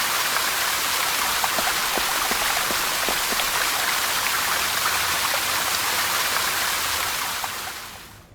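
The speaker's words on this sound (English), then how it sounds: "The water jet doesn't reach the ceiling. I suppose that would have been too easy. I had better switch that fountain off." Fountain water jets splash steadily in the point-and-click game Secret Files: Puritas Cordis, a continuous dense hiss of falling water that stays loud throughout and cuts off near the end.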